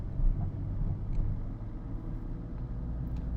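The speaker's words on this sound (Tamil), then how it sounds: "கொஞ்சம் லென்த்தியாக இருக்குது அந்த ஸ்பீடு பிரேக்கர், அதனால் ஸ்மூத்தாக ஏறி இறங்கிரும்" A car in second gear rolling smoothly over a long speed breaker on a Chennai street, heard as a steady low in-cabin rumble with a slight bump near the start, fairly quiet and continuous.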